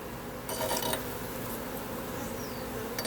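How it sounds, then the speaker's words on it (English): A honey bee swarm clustered on a wall gives off a dense, steady buzzing that fills the whole moment, close and fairly loud. "I have a whole set of bees here on the wall."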